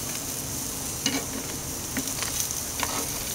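Thick 1.5-inch steaks sizzle steadily on a grill just after being turned, a dense, even frying hiss with scattered small pops and crackles, close and continuous, no voices.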